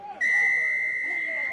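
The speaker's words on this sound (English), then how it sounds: "Finally, we get a whistle." A referee's whistle at a collegiate rugby championship match sounds one long, loud, steady blast lasting over a second, cutting in abruptly and holding over faint background noise.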